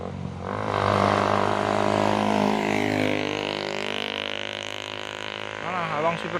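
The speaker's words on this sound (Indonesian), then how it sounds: "Tidak kuat nanjak. Truk Puso oren 6 kali" An orange Puso truck engine straining as it fails to climb a hill, loud and close, with a droning, laboured tone that holds steady and then slowly sags.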